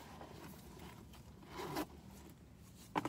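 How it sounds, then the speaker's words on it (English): A zipper on the pocket of a thrifted distressed burgundy leather bag, a faint scraping pull with a short burst midway and a quick final tug near the end, heard alone in a quiet room. "Zipper pocket."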